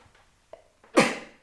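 A single loud, close sneeze bursts out after a few soft breaths and a faint catch, then trails off quickly.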